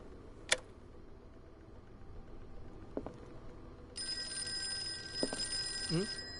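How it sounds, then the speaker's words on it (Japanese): A telephone rings in the horror video game Call of Cthulhu, a sharp electronic trill starting around the midpoint and holding steady to the end, set over a quiet, murky game ambience with a few faint clicks. "電話だ。"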